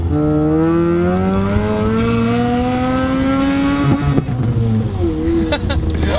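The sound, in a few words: Mazda RX7 rotary engine revving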